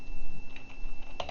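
Keys clack on a computer keyboard as a search is typed, a handful of quick close taps in an uneven burst, closing with a sharper pair of strokes.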